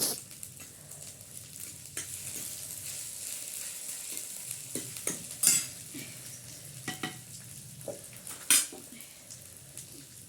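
Ginger and green chillies roast in a pan with a soft, steady sizzle, broken by occasional scrapes of stirring and sharp clinks of a utensil against the metal, heard close with no talking.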